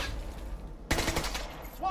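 Gunfire in the video game Caliber, a sudden burst of rapid shots breaking in after a quieter stretch, loud and close, with a voice faintly underneath.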